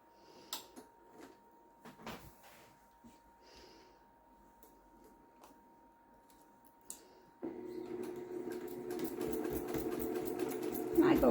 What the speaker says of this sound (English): We're going to stitch across the edge of these just like we did with the other ones.